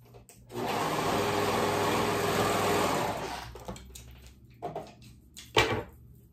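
A sewing machine runs a continuous motor whir for a few seconds while stitching the shoulder seams of a dress, then stops and is followed by scattered fabric handling and light clunks.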